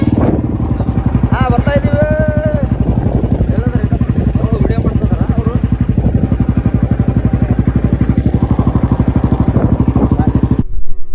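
A motorcycle engine drones steadily and loudly throughout a morning ride toward Jogi Matti, with a voice briefly audible over the engine near the start.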